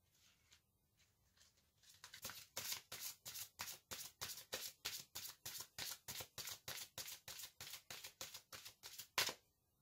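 Tarot cards being shuffled, a fast run of crisp, evenly spaced riffling flicks close by that ends in a sharper snap.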